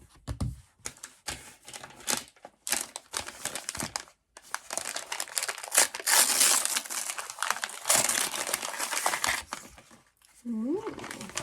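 A small gift box is opened with bursts of crinkling plastic and paper packaging, close and irregular with short pauses, while a voice talks in between.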